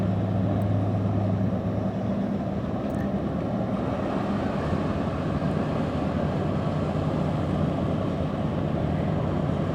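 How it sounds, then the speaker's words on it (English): The thruster of the lake freighter Wilfred Sykes gives a steady, loud low rumbling drone mixed with wind noise on the microphone, continuous and unbroken. "if you heard that noise, that is for the thruster"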